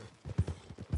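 Horse hooves clip-clop at a steady walking rhythm in the video game Red Dead Redemption 2, several soft, fairly faint thuds in quick succession.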